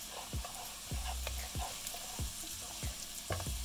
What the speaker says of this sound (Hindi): अब ये अदरक को अच्छी तरह से मैंने रोस्ट कर लिया है, अदरक लहसुन के पेस्ट को।